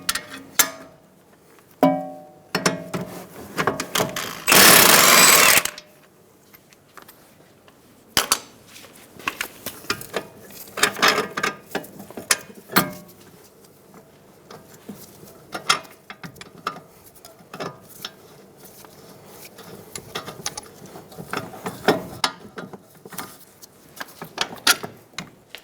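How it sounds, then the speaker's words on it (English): Socket and wrench work on a brake dust shield nut of a 2007-2011 Toyota Camry: scattered metallic clicks, ratcheting and clanks close by, with one loud burst of noise early on and no talk. "Using a 22mm socket and a 22mm wrench, we're going to hold the head of the bolt and remove the nut"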